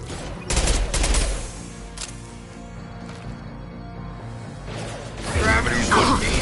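Rapid bursts of gunfire and impacts in the video game Mass Effect 2, loud and repeated, with voices calling out between the shots.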